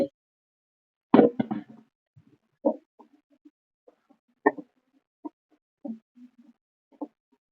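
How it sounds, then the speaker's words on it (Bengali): Boiled potatoes drop into a pan of cooked spice mixture, giving a few soft, wet plops and scattered quiet thuds spread over several seconds with silent gaps between them, close and with no voices. "এখানে আলু সেদ্ধ করে রেখে দিয়েছিলাম সেটা দিয়ে দিচ্ছি"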